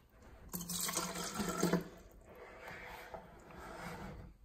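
Water from a $1 bottle of Smart Sense spring water, sold at K-Mart, pours into a small pH test cup, giving a brief bright splashing burst that settles into a softer, steadier trickle, close and alone.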